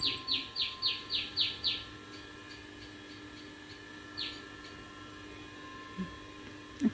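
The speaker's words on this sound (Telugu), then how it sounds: "ఇక చూడండి పక్షులు రానే వచ్చినాయి." Small birds chirp in a quick run of six bright, evenly spaced calls, then one more chirp after a pause, against a faint outdoor background with no talking.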